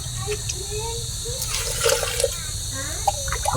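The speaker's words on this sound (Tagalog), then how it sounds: "Lagyan natin ng mainit na tubig" Hot water pours into a mix of powdered milk to dissolve it, a soft liquid rush and splashing heard under a person talking.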